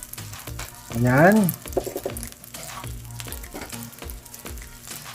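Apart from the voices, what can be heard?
garlic fried rice frying and being stirred in a pan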